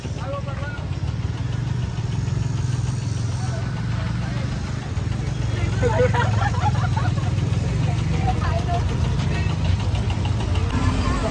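A Maharashtra state transport (MSRTC) ST bus idles with a steady low engine rumble throughout, loud and close, with crowd noise and voices talking over it.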